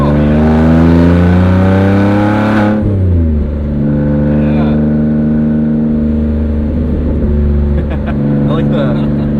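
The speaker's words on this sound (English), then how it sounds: "I like the throaty burbles." A Rolls-Royce Wraith's engine rumbles loud and close with deep, throaty exhaust burbles, its pitch dropping sharply partway through before settling into a steady low drone with faint speech.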